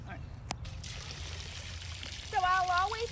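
Water trickles and pours steadily outdoors in a garden while bird baths are topped up among plants, a continuous hissing flow under nearby talk, with a short sharp tap early on and a brief whistle-like tone near the end.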